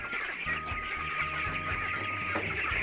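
Pureline breeder ducks at feeding time, a dense flock quacking and clucking continuously and loudly up close, with overlapping calls and a steady background din.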